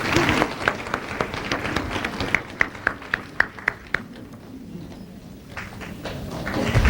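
Audience applause as a master arrives at a spiritual gathering, a steady wash of clapping with sharp individual claps standing out midway, then fading into quieter room noise before swelling again.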